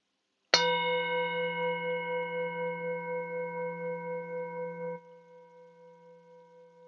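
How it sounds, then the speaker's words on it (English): A meditation bell is struck once with a bright attack, then rings on in a long, steady, slowly pulsing tone. It is then damped to a soft, lingering hum in a quiet room. "I'll invite the bell to get us started."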